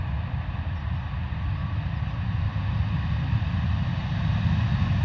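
Distant, steady low rumble of a Ryanair airliner landing at foggy London Luton Airport on a misty morning, arriving slowly from Dublin, a continuous engine roar holding even throughout with no voices.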